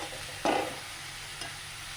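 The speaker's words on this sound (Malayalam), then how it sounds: "ഇനി അതിലേക്ക് ഈ സോയ ചങ്ക്സ് പിഴിഞ്ഞ് വെച്ചിരിക്കുന്നത് ഇട്ട് കൊടുക്കാം. ഇട്ട് കൊടുത്ത് നല്ലോണം ഒന്ന് മിക്സ് ചെയ്ത് കൊടുക്കാം." Squeezed soya chunks dropped into hot oil and mixed into a masala for a curry: a steady frying sizzle with two scraping stirs of a spoon against the pan, the first louder, close up and with no voices.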